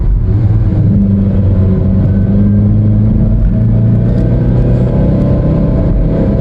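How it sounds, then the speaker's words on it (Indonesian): A 2015 Nissan Grand Livina X-Gear with a CVT automatic transmission accelerates hard from the cabin, a loud steady engine drone with a droning hum that holds and rises slightly, with no talking. "kalau kalian tanya tentang tenaga mesin ya, kita coba ya, kita bejek."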